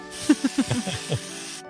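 A voice imitates SPF 50 spray sunscreen being sprayed, making a steady close hiss of about a second and a half with voiced pulses running through it.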